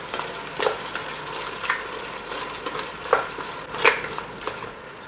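Scallops cooking in a pan while being stirred, with a soft continuous sizzle broken by several sharp scraping strokes of a utensil at irregular intervals.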